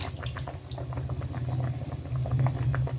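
A pot of salted water heating on a stove for a Filipino milkfish and water spinach soup, giving a steady bubbling, rolling boil with soft patter and a low hum, close and continuous with no talking.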